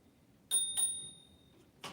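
Two quick dings of a small bicycle bell, close and bright, ringing out briefly before a soft click.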